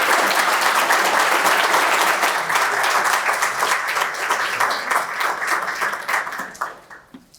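Sustained audience applause at a founders' honoring event for an outstanding Ohioan, loud and dense from a full crowd, holding steady before tapering off at the end.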